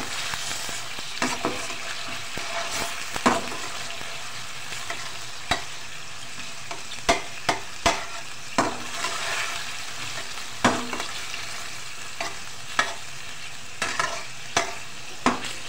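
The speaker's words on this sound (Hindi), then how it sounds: "इसमें खूब अच्छे से हमने चिकन को फ्राई करना है लहसुन अदरक के साथ।" Continuous sizzling of chicken frying in oil with garlic and ginger, punctuated by repeated clicks and scrapes of a spatula stirring the pan, close up with no talking.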